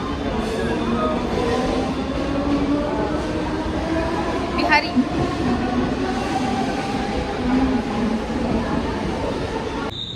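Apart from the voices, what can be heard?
train at station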